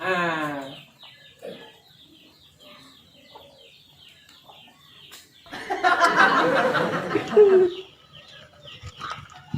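A hen clucking in short bursts, loud and close, with a longer busy stretch of clucks midway, alongside intermittent speech.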